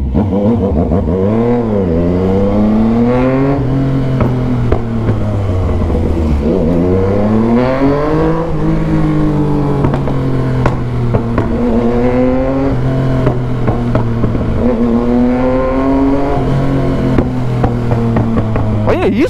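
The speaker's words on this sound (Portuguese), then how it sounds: "Mano, o barulho dessa moto." A Yamaha MT-09 motorcycle engine revs loudly and repeatedly, its pitch climbing and dropping in surges over a continuous rumbling idle.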